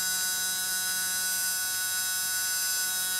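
A small electric motor runs steadily under supercapacitor power, giving off a continuous high-pitched whine and buzz with no breaks, close and alone with no talking.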